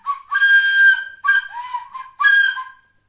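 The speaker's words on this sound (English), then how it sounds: "She put in some silly notes because she too didn't know how to play a flute" A flute played clumsily by someone who cannot play it, giving a few uneven, silly whistling notes in short bursts separated by brief pauses, clear and close with no talking.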